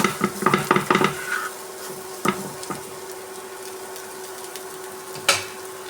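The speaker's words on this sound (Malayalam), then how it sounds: "1 സ്പൂൺ തേങ്ങ. നന്നായി വഴറ്റിയെടുക്കാം." Grated coconut with chilli powder being sautéed in a pan for an egg and pappad thoran, giving a few quick stirring scrapes and a soft sizzle early on, then a quiet steady hiss with occasional single clinks of the spoon.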